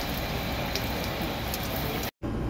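Steady rain pours down on a mountain road during a trip to Mount Apo, a dense, even hiss with no talk, briefly cut out near the end before resuming.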